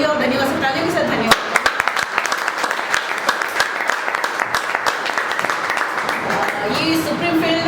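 Applause from an audience at a team leaders' meeting, dense clapping that swells after a brief voice at the start, holds steady and fades toward the end.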